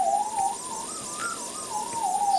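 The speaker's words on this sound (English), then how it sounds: "it's one tone sweep going up and down, going through a flanger" An electronic tone from a Teensy 3.2 sweeps slowly up and down through a flanger, giving a wavering, whooshing warble that stays steady and clear with no other sounds.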